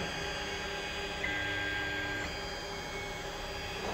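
An Ender 5 Plus 3D printer printing Xbox wall mounts hums and whines steadily, with stepper-motor tones sliding in pitch as the head moves, close and continuous with no talking.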